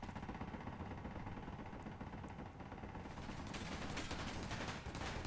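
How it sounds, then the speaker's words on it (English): Sustained machine gun fire from a battlecruiser turret in Space Engineers, a dense continuous roar of gunfire with rapid crackling bursts growing louder and brighter toward the end. "the machine guns are getting work done"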